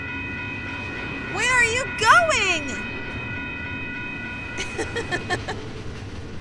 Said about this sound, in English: I gotta see this train.